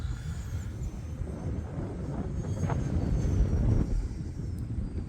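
A small E-flite Habu SS 50mm electric ducted-fan RC jet whines past outdoors on a windy day, a faint steady hum swelling slightly then fading under buffeting wind noise.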